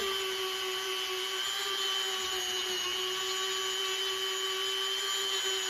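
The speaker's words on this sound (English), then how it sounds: "And model airplane noises, because I'm snagging the rubber." A power tool buzzes steadily at a high, whining pitch like a model airplane engine while snagging rubber, running loud and unbroken throughout.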